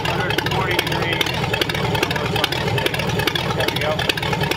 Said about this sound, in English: Been running for about 10 minutes just idling.